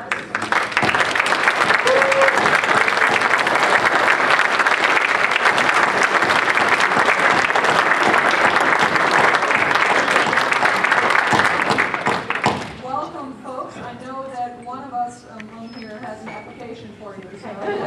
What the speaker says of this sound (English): Will you please stand up and receive your applause?